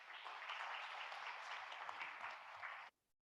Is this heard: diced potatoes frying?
no